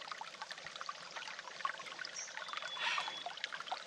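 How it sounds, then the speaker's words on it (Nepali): Spring water from high hillside ground trickles and pours steadily, a soft continuous splashing close by with no voices over it. "यो चाहिँ अलिकति लेकबाटै बगेको पानी हो।"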